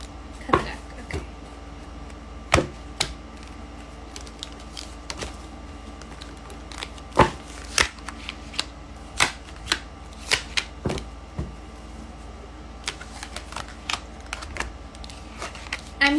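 Tarot cards handled close up while the deck is shuffled and cut, a long run of scattered light taps, slaps and soft riffles at an irregular pace, with no talking.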